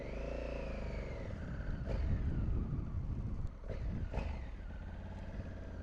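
A new Honda Africa Twin motorcycle on its first ride home from the dealership, engine humming and whirring steadily under wind, with a couple of brief bumps as it pulls away.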